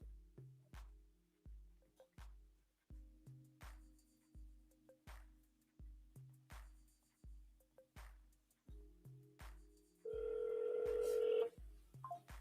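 A phone call back rings out as a repeating ringback tone, about ten evenly spaced pulses in a steady rhythm, followed near the end by a brief, sustained beep.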